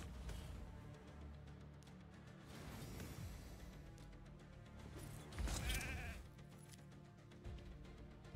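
Sheep bleating in the fantasy RPG Raid Shadow Legends, game sound effects heard amid busy layered battle music and crashes, with a louder burst of combat noise partway through.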